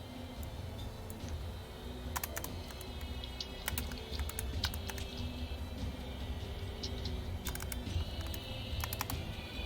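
Rapid typing on a computer keyboard, a steady patter of close, crisp key clicks with occasional louder strokes over a low background hum, no voices.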